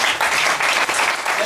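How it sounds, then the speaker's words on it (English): A crowd at a speech breaks into brief applause, dense clapping that stays steady and fairly loud for a second and a half. "Let's give them a hand clap."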